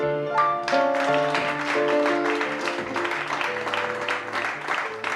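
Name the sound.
audience applauding the pianist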